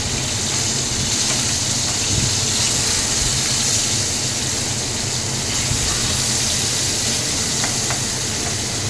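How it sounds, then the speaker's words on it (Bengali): Pieces of hilsa fish frying in hot oil, a dense, loud, continuous hiss that holds steady throughout without pauses or talk. "ভেজে নিচ্ছি ইলিশ মাছের টুকরোগুলোকে"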